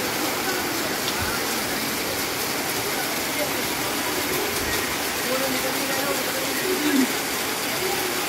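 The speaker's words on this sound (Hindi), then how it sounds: "ये देखिए आज दिनेशपुर में कितना बारिश हो रहा है" Heavy rain pouring down on a market street in Dinespur during a dark downpour, a dense continuous hiss and patter under someone talking.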